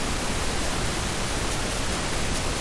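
Pink noise test signal in a mix: a steady, even broadband hiss that holds at constant loudness throughout, with no voices or other sounds.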